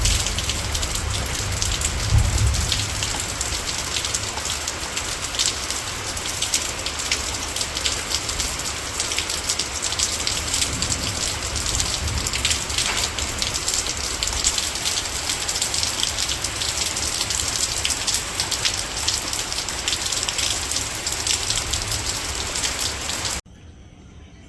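Steady rain pours in a village on a hot afternoon, a dense continuous hiss of drops on surfaces with occasional heavier patters, then cuts off abruptly at the end.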